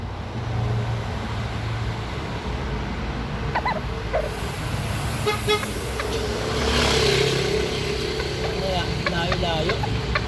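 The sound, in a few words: vehicle horn honking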